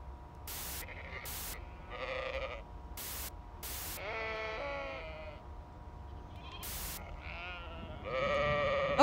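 Sheep in the video game Amanda the Adventurer bleat several times in wavering cries, separated by sharp bursts of game noise, with no talk.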